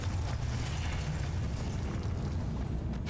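A Confringo blasting curse explodes in Hogwarts Legacy, a deep continuous rumbling boom with dense low-end roar that holds steady and loud throughout, with no pause or separate bursts.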